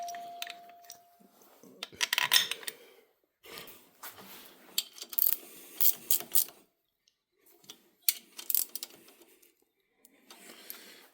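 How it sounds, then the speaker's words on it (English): A hand ratchet tightens the rocker arm assembly bolts on a Twin Cam Harley engine, giving short bursts of close, crisp clicking separated by pauses, fairly quiet overall. "I'm going to put the 4 bolts in for the rocker arm assemblies."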